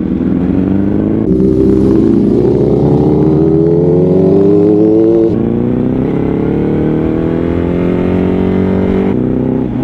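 An old-model Yamaha R1 sport motorcycle engine roars loudly and close, revving up in sustained climbs with brief shifts between, no voices.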